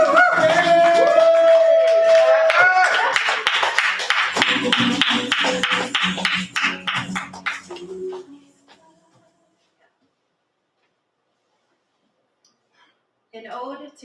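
An open-mic slam audience claps and cheers loudly for a poet, the applause slowly thinning and fading into silence before a single voice begins speaking at the end.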